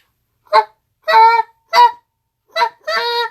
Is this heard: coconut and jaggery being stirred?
no